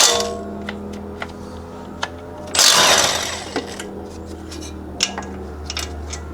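Two E14 bolts being removed from where a suspension strut attaches to the steering knuckle on a W212 Mercedes-Benz E63 AMG, with sharp metallic ticks and one loud burst of a power tool, all close up.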